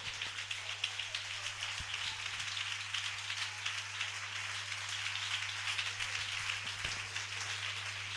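Church congregation in Elche applauding during a sermon, a steady dense wash of clapping heard at middle distance with a low electrical hum beneath, no talk over it.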